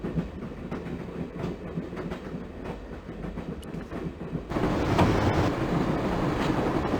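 Train rolling along the tracks in the Broken Sword: Shadow of the Templars adventure game, a steady rumble with faint rhythmic clatter that grows louder and brighter about two-thirds through, with no voices.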